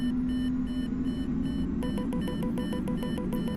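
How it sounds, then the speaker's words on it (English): Cockpit warning beeps in Microsoft Flight Simulator 2024 begin partway through as a rapid, evenly spaced electronic pulse that repeats steadily over a constant hum of engine and cabin noise. "Beep, beep, beep, beep, beep, beep, beep, beep."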